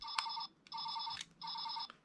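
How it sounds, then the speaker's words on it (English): A Power Rangers Robo Morpher toy plays a digitized phone-ring effect: three short electronic trills with brief gaps between them, close and clear. "Phone ringing."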